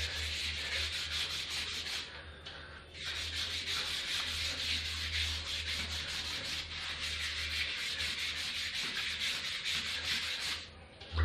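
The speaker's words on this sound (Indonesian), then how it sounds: "Tinggal gosok sambil dicelupkan kuasnya ke obatnya." A brush dipped in cleaner scrubs limescale off a bathroom scale, giving close, steady rasping strokes that pause briefly twice.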